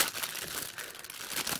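Packaging for a soldering iron stand crinkles and rustles up close as it is opened, a continuous plastic crackle with no talking.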